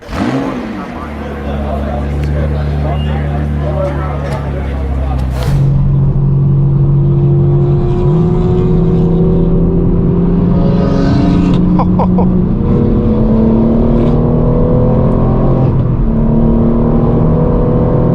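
A Lotus sports car engine drones steadily on the road, then surges louder around midway, revving up through rising gears, close by, with brief voices mixed in over the engine noise.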